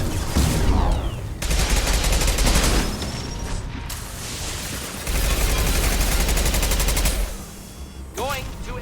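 Loud sci-fi weapon fire in Mass Effect 2 combat comes in long sustained volleys with brief gaps, rattling close-up, followed by a few sharp zapping effects near the end.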